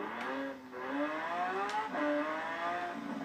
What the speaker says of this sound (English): I'm driving a Lambo.